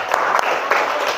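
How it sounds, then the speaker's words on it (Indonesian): A brief burst of classroom clapping for a student, close and fairly loud, with scattered individual claps and some voices mixed in. "Kasih tepuk tangan dulu buat Aliza."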